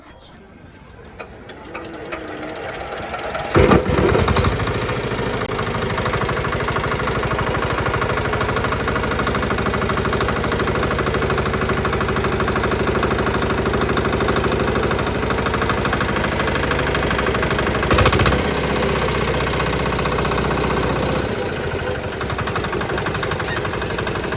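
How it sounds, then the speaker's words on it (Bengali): A second-hand small diesel generator engine, 2–3 kW or 6 HP, runs steadily for over twenty seconds after a brief start-up clatter near the beginning, a loud continuous mechanical drone with no talking over it. "তাহলে চলুন শোনাই আপনাদেরকে ইঞ্জিনের সাউন্ড কন্ডিশনটা"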